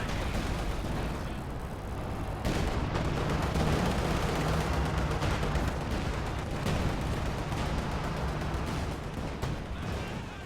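Artillery barrages in Company of Heroes 2, including white phosphorus shells from a Pak howitzer, a continuous rumbling din of booms and blasts with a sharp impact near the start.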